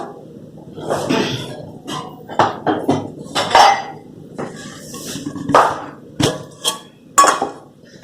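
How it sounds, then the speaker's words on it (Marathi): An iron tava is set down on a home kitchen stove while fasting-style thalipeeth is being made. Several close metallic clanks and knocks come at irregular intervals over a low background hum. "लोखंडी तवाच ठेवा ठेवा"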